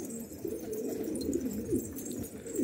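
Pigeons in a loft cooing continuously, a low soft murmur of several birds close by with repeated rolling coos, no voices.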